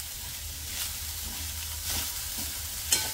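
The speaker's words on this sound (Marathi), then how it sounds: "हे परतून घ्यायचं। लो फ्लेमवरती आपण हे परतून घ्यायचंय।" Jaggery being sautéed and stirred in a pan over a low flame for a sweet modak filling, giving a soft steady sizzle with a few gentle scraping strokes and one sharper clink near the end.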